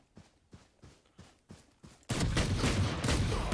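Gunfire in Valorant: a series of evenly spaced single shots about every half second, then a dense, loud burst of rapid fire that keeps going to the end.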